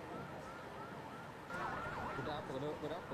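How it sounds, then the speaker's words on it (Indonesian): An ambulance siren wails into a Karapan Sapi bull race arena after a brawl, its wavering tone rising from halfway through over a dense background of crowd noise, heard from moderate distance. "Sebuah mobil ambulans terlihat memasuki arena"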